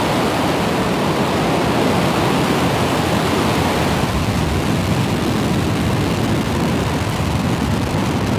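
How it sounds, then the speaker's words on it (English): Falcon 9 rocket carrying two Norwegian ASBM satellites lifting off, a loud, continuous broadband roar that holds steady and dense throughout, with deep rumble underneath and no pauses. "Ignition. And liftoff of Falcon"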